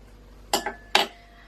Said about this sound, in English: And then scrape down the sides of your cocoa powder bowl, or plate as I put it on.